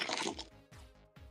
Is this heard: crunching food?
yes